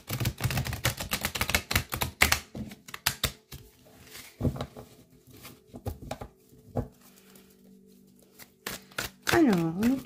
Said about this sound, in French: on me fait mélanger les cartes